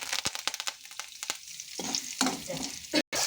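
Curry leaves drop into hot oil and crackle and sizzle loudly right up close, with sharp spitting pops and stirring noise over a few seconds.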